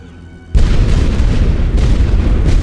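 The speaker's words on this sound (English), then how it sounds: "Let's blow up some more. More artillery going down." Artillery shells exploding in The Great War: Western Front video game, a sudden loud boom that rolls straight into a dense, sustained rumble of blasts with a few sharper hits inside it.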